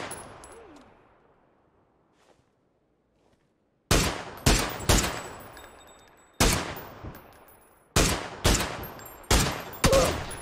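Video game gunfire in a solo squads battle royale match: after a few quiet seconds, sharp loud shots crack in quick bursts and single reports, each with a short decaying tail.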